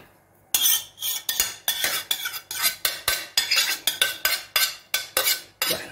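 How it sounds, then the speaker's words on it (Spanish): Potato stirred into a green bean and mackerel salad with a utensil, giving a long run of regular clinking, scraping strokes against a bowl, loud and close, with no talk. "Bueno, vamos a añadir la patata"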